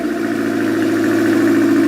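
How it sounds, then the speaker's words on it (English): A turbocharged Honda Civic engine suffering from rod knock idles steadily nearby, a loud, even mechanical drone with a faint rapid knocking pulse running through it, with no voices. "you hear that rod knock?"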